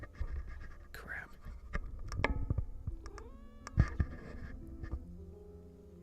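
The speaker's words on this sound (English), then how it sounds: "As the cat continued to hit the microphone." A cat batting at a microphone, giving irregular thumps, scratchy knocks and close handling bumps over about six seconds, with a faint meow-like rising tone in the middle and a low room hum underneath.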